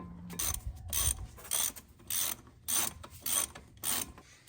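Ratchet driving a bolt back onto the brake assembly of a Ford F-250, heard as about six evenly spaced bursts of buzzy ratcheting clicks, close and distinct, with quiet pauses between strokes.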